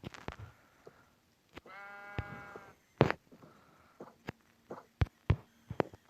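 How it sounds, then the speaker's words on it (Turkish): A single Minecraft sheep bleats once amid scattered clicks and thumps, fairly close and moderately loud, with quiet gaps between sounds. "Heh yine şu geldi koyun ya."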